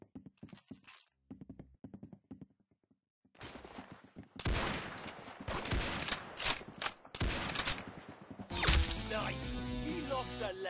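Rapid gunfire from the Roblox shooter Arsenal, bursts of shots and quick fusillades building after a quieter opening, loud and dense with game sounds, while a voice talks over parts of it.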